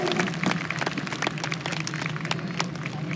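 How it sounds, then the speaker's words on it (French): Crowd applause at a racetrack for a young race driver, steady scattered clapping heard from a distance over a constant low background hum. "Bonne main d'applaudissement pour le jeune pilote Alex Lisa."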